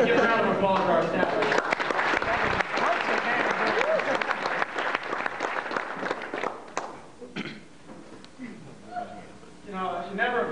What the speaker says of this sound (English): Give a round of applause for our staff